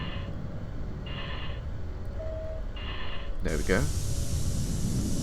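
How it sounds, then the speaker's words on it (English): Metro train doors open in the Metro Simulator game with a sudden loud pneumatic hiss and a short sweeping mechanical whoosh midway, over steady background rumble while someone talks. "We're gonna open the doors now as soon as it stops."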